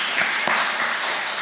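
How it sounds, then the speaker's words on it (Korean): A church congregation claps for an elder in a brief, continuous patter of hands with a few sharper taps standing out. "우리 그래도 격려의 박수 한번 부탁하죠"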